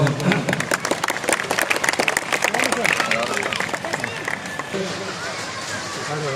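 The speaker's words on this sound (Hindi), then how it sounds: "दाएं बाएं मुड़ जोरदार तालियों के साथ हम इस्तकबाल करें।" An audience at a youth club training centre inauguration in Bhagalpur claps loudly in a sustained burst of dense applause, with some voices mixed in, fading slightly toward the end.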